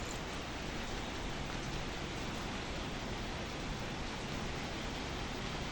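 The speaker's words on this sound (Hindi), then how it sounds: "इधर से बारिश आ रही है।" Steady hiss of rain falling, even and continuous, moderately distant and fairly soft, with no talking.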